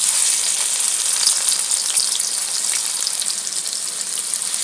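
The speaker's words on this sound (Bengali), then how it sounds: "দিয়ে দিচ্ছি পেঁয়াজ," Onions frying in leftover fish oil with a little fresh oil added, a continuous close, loud sizzle with crackling spatter throughout.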